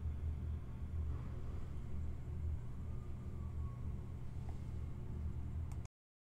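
A Coates 5040e rim clamp tire changer turns a tire on its turntable, giving a steady low motor rumble and hum that runs evenly and then stops abruptly just before six seconds.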